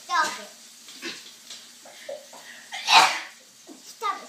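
A sharp, loud sneeze bursts out midway, surrounded by a child's chatter and small vocal sounds.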